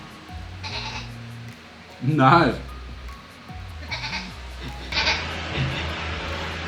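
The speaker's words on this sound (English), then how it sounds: "What sound does this animal make? A sheep." A sheep bleats several times, one loud close bleat standing out among fainter ones, with a person speaking briefly.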